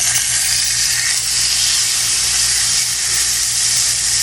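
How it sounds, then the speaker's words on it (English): A steak sears in a hot cast iron skillet, giving a loud, continuous sizzle with steady bright hiss close up, unbroken and without talk. "Press it down so we can get that good sear on it."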